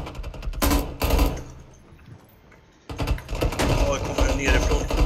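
Video game gunfire crackles in rapid bursts with sharp, close shots, breaks off into a quieter gap, then resumes in dense volleys.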